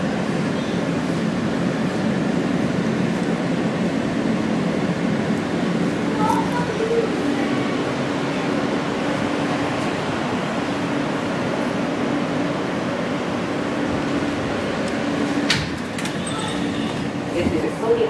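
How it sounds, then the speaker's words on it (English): An F Express subway train on the New York City subway, bound for Coney Island–Stillwell Avenue, rolls steadily with a continuous low rumble and faint rattling throughout, a brief clatter near the end. "This is a Coney Island, Stillwell Avenue bound F Express train."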